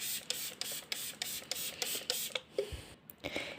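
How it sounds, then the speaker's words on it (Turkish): Room-temperature water misted from a hand spray bottle around simit dough, a run of quick, close trigger squirts in steady rhythm with short pauses, each a crisp hiss, no talking. "Bu yüzden etrafına birazcık su sıkıyorum. Normal oda sıcaklığında su."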